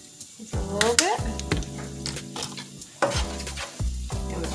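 Cajun-seasoned keto dinner being stirred in a sizzling pan, with steady frying hiss under repeated scraping and clinking strokes of the utensil against the pan, close and fairly loud, and several louder stirring bursts.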